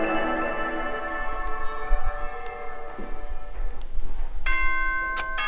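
A ding-dong announcement chime from the video game Danganronpa 2 rings out near the end, bright bell-like tones sounding over a steady background of music.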